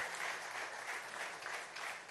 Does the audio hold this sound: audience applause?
yes